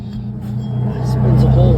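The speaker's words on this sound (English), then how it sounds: "sorry about the car" A car passes by on the street beside a Scion tC rear wheel bearing job, a low engine rumble that builds steadily and grows louder toward the end, with someone talking over it.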